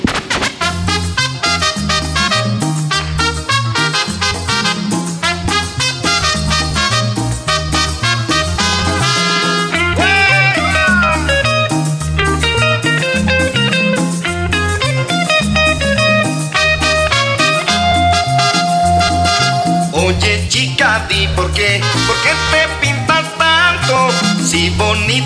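A DJ plays upbeat dance music at an event, with a steady driving beat, bass and melodic lines running continuously at moderate volume without talk.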